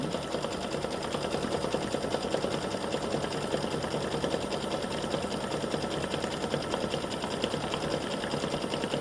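An embroidery sewing machine stitches a flip flop applique design, a rapid, even, continuous mechanical needle clatter running close and steady throughout with no talking.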